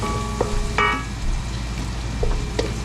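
Garlic and onion sautéing in hot oil for a home-cooked birthday meal, with a steady sizzle, a few sharp pops and spatters, and faint tonal beeps in the background, no talk.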